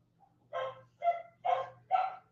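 A puppy barks four times in quick succession, a short yip followed by four bursts of sharp, fairly loud yelps spaced about half a second apart, over a low steady hum.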